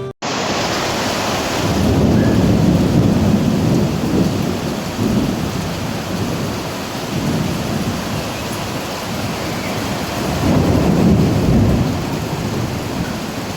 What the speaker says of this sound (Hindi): तो पूरी रात से बारिश हो रही है।